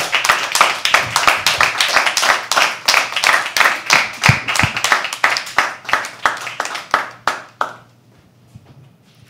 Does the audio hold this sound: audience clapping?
yes